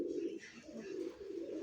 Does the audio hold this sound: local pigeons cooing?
yes